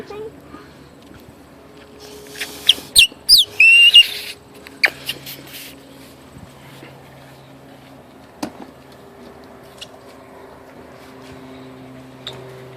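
A homemade whistle cut from a thick onion stalk is blown in a few short, squeaky, high-pitched bursts, followed by a quiet stretch with low background hum.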